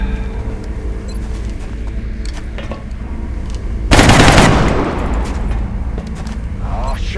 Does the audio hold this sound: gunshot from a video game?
yes